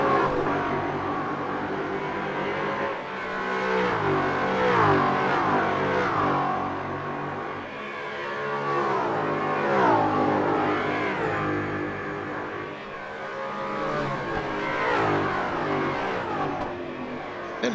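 A Ford Mustang fitted with new mufflers races around a track, its engine revving and shifting in repeated rising and falling surges, loud and close throughout.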